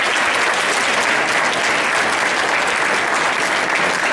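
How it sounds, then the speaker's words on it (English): An audience at a university event claps in a sustained, dense round of applause for the Tuskegee Airmen, loud and even from start to finish with no break. "Let's give the Tuskegee Airmen a round of applause."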